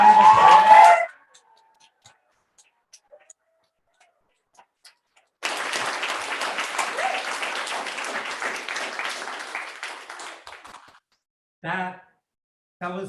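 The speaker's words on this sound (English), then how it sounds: "Can we just have a huge round of applause?" A brief voice, then an open mic café audience breaks into sustained applause for several seconds before it fades, followed by a couple of short bursts of voices.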